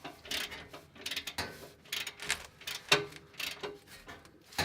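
Bolts are tightened with a ratchet while an Invidia Q300 exhaust is installed on an STi. Quick bursts of ratcheting clicks come in short uneven runs, close and fairly faint, with small metallic clinks between them.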